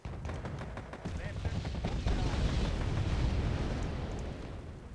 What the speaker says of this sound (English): let's see if I drop these bombs here. Starfighters.